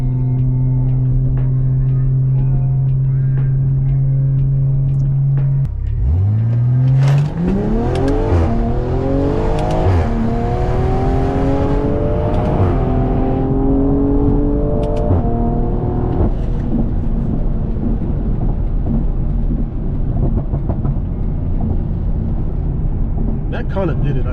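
A 500hp BMW M340i accelerates hard from a standstill in a 0-60 pull, its engine rising through the revs with clear gear shifts, loud and close throughout, with a steady idle beforehand.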